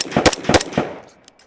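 A rifle fires after a fresh magazine is inserted, with three quick loud, close bursts in rapid succession followed by a short fading tail.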